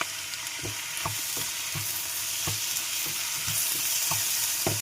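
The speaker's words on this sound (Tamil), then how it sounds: "இப்போ வந்து தக்காளி போட்டுக்கலாம். தக்காளி நல்லா வதங்கட்டும்." Tomatoes sauté in a hot pan with a steady sizzle, punctuated by regular close scraping strokes of a spoon or spatula stirring the mixture.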